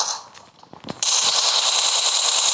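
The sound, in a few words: gunfire in the video game PUBG Mobile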